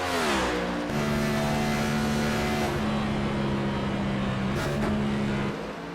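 Race cars roar around the Michigan oval in the iRacing sim during an AREA Elite Entertainment Cup Series playoff race, with a loud, steady engine drone that climbs and settles as the cars pass close by.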